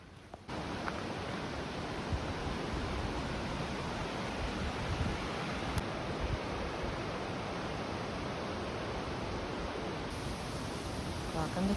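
Cascade Falls in Rocky Mountain National Park roars as a steady, broadband rush of falling water, close and continuous throughout with no voices over it.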